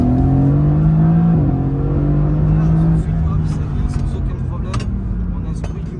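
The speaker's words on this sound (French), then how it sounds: "Regardez si on fait une petite accélération." Mercedes-AMG GT S sports car engine revving up from inside the cabin, a steady close drone with harmonic tones rising and shifting as it accelerates, someone talking over it.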